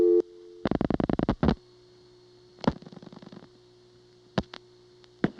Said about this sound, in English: Notice after I dial the 7, the sender will dial the 7 also.